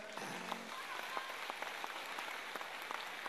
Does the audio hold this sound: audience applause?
yes